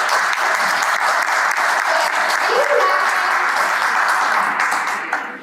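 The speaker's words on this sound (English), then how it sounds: "Yes, everybody, please clap for them." Audience applause fills a presentation hall at Equip Expo 2022, a steady, dense wash of clapping lasting about five seconds before tapering off, with faint voices underneath.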